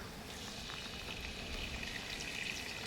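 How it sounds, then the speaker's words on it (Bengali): Whole cardamom, cloves and cinnamon sizzle in hot mustard oil in a kadai, giving a steady, close, crackling hiss with scattered pops, alone and without talk. "তেলেতে গরম মশলা এখানে ছোটো এলাচ লবঙ্গ দারচিনি দিয়ে দিচ্ছি"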